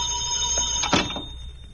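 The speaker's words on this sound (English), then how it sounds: "I better answer the phone." A telephone rings in an old-time noir detective radio drama, a bright electric bell ring standing alone with a steady tone behind it.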